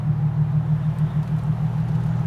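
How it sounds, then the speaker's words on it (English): Steady low rumble of car engines and highway traffic, a continuous drone with no pauses and no voices. "as noisy as it is, engines, highway going by"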